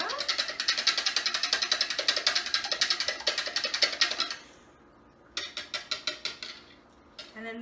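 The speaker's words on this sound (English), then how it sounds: "I'm just gonna whisk it up." Eggs and salt are whisked briskly in a bowl, a rapid rhythmic clicking and scraping that runs for about four seconds, pauses, then resumes in a shorter burst of quick taps.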